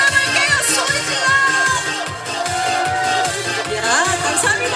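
Outdoor onion festival concert audience in Jecheon shouting and cheering, a sustained mass of voices with shrill yells over rhythmic backing music.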